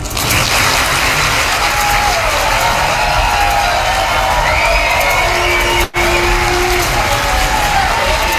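A New Hampshire town hall crowd with Donald Trump applauds and cheers in a loud, continuous wash of clapping and whoops, broken by one brief cut near the end.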